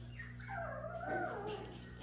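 A 5.5-week-old Welsh puppy whimpers and yips in a rising and falling whiny cry, close and fairly loud over a steady low background hum, with no talking.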